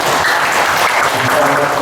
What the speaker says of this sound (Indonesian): Tepuk tangan buat Bu Camat.